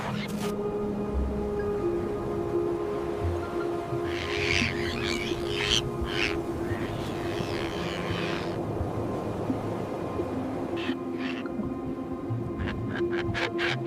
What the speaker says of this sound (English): Above the colony, skuas circle like shadows against the pale sky.